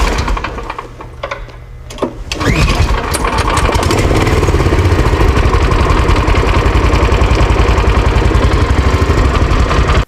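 A Rokon 2x2 two-wheel-drive all-terrain motorcycle's single-cylinder petrol engine catches after a brief quiet start and settles into a steady, close, loud idle that chugs on without a break, with no talk.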